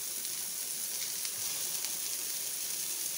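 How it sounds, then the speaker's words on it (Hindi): Gola kebabs shallow frying in a few spoons of oil in a frying pan, a soft, steady, even sizzle heard up close with no voices. "मैं हल्का सा शेलो फ्राई करूंगी"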